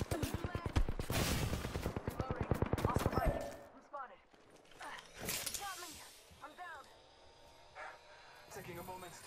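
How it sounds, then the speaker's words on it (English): Enemy gunfire in a video game: a dense, loud burst of rapid repeated shots in the opening seconds, then quieter scattered activity with a voice talking over it. "I am taking fire, friends."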